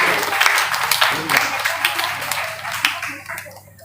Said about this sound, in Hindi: बच्चे जोरदार तालियों से स्वागत करेंगे